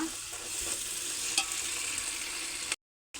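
Ginger garlic paste fries in a pan with a steady, close sizzle and soft stirring scrapes running throughout, one faint click midway, before the sound cuts out briefly near the end.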